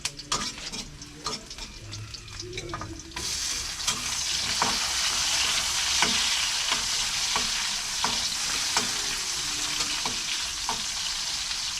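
Tomato drops into a hot pan while bihon noodles are stir-fried. A steady, close sizzle swells after a few seconds, and utensils clink and scrape against the pan throughout without any talk.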